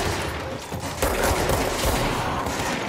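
Gunfire in the video game Control, a dense burst of shots that grows louder and fuller midway, close and unbroken with no talking.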